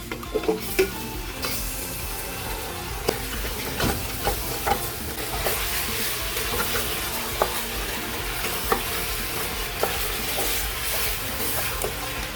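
Chicken pieces sizzle and fry with sweet paprika and tomato paste for red kabsa while a spoon stirs and scrapes the pot, giving a steady hiss broken by repeated sharp clinks and knocks.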